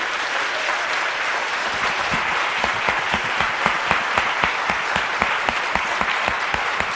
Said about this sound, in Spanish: Si le vas a aplaudir, aplaude